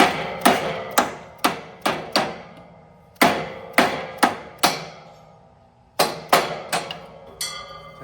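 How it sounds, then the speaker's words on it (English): A wrench taps a gold washer down into place in quick clusters of four or five sharp metallic knocks. The clusters are separated by brief pauses, and each knock rings out close and clear. "Just take a wrench, start at the top and just tap"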